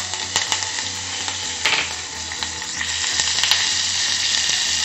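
Curry leaves hit hot oil for a tempering, giving a crackling sizzle with sharp spattering pops over a steady hiss, close up.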